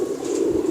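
A single short, soft pigeon coo, low and close, heard alone without voices.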